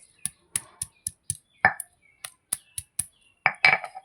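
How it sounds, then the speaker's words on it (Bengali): Garlic and ginger pounded together for a fish dish: a series of about a dozen sharp, close knocks of stone or pestle striking, evenly spaced with a few scraping grinds between, alone with no talk. "একসাথে বেটে নেব রসুন আদা"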